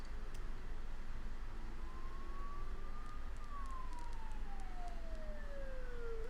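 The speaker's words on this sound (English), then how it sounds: "Don't those sirens sound really close?" Police sirens wail through foggy streets in the video game Persona 4 Golden, a single rising then slowly falling tone sounding fairly close over a constant low ambient rumble, with no talking.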